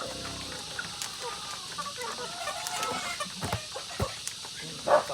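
A flock of chickens, mostly roosters, clucks and calls faintly at a distance, with scattered short squawks and a louder cluck near the end.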